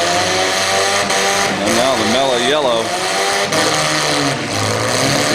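Battered demolition derby cars at the Ashland County Fair drone and rev, engines wavering up and down in pitch while hot exhausts roar beneath a commentator talking over a loudspeaker.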